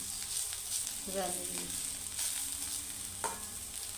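Bitter gourd (karela) slices frying crisp in a pan, giving a steady close sizzle with occasional stirring scrapes, heard alone without talk.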